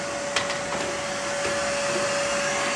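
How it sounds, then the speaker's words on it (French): A vacuum cleaner runs steadily at a constant level, a continuous broadband whine with a steady tone, close by in an animal rescue setting, with no talking. "Les autres, ils font le balai, l'aspirateur."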